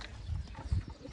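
Racing pigeons coo softly in a loft, giving two low, muffled throaty pulses over faint background rustle.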